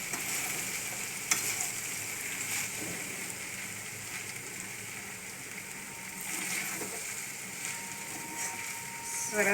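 Vegetable rice being stirred in a hot pan, with a steady sizzle and frying crackle and the scrape of a spoon turning the grains, continuous and close.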